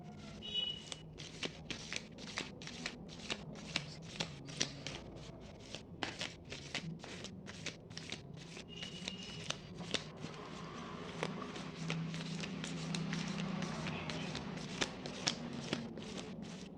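A deck of tarot cards is shuffled by hand, close and fairly soft, with a steady series of crisp riffling snaps and flutters repeating throughout.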